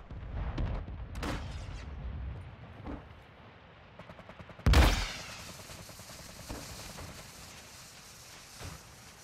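Gunfire in Call of Duty: scattered shots and short bursts ring out, with one loud, sharp blast in the middle followed by a lingering rumble and further scattered shots.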